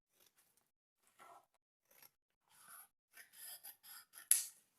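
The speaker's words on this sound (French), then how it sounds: "pour l'enveloppe, je pourrais la couper" Scissors snip through a paper envelope, opening with a few faint, sparse cuts and building to a run of closer, crisper cuts with short pauses between them.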